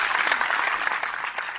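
Audience applause from a crowd at a live podcast taping, a steady dense clatter of clapping that holds for under two seconds and fades slightly at the end.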